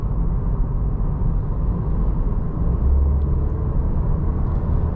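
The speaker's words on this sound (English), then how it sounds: "that 2-liter 4-cylinder actually sounds pretty good" A 2023 Cadillac CT4's 2-liter four-cylinder engine drones steadily while accelerating, with a deep, constant rumble, loud and close, no voices over it.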